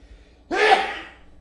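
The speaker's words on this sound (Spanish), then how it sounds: "Perdón, eso fue un estornudo" A single loud, close sneeze from a priest during a Catholic catechism study session, a sharp sudden burst that trails off quickly, alone without talk.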